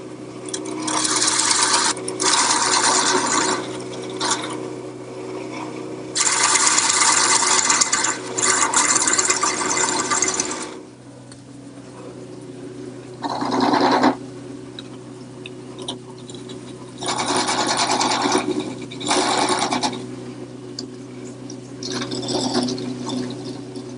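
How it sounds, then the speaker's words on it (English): A parting tool cuts into wood spinning on a lathe, shaping a ball. Repeated bursts of harsh, close scraping alternate with quieter gaps, all over a steady motor hum. "Now I'm going to return to the parting tool."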